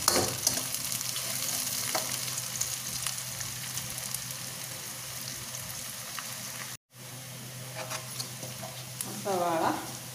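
Onions and curry leaves fry in a pan for a fish head curry, giving a steady, close sizzle that runs throughout, with a brief cutout near the middle and a few stirring clinks toward the end.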